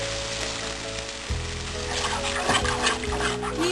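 Milk poured into sizzling spices in a pan for a paneer curry, a close, loud hiss and bubbling that swells as the liquid hits the hot oil.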